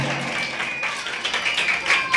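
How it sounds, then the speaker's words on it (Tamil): Children clap their hands at a Tamil church Bible memory-verse celebration, a brisk scattered patter of many small claps, fairly close and lively, with some voices mixed in. "நல்லா கை தட்டுங்க."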